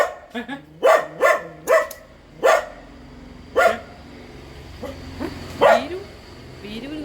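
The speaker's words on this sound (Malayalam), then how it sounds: "വീരു കുരയ്ക്കുന്നു" A dog barks sharply and repeatedly, about eight or nine loud, close barks coming in uneven bursts, with quieter yips between them, outdoors at a family home in the evening during the mango harvest.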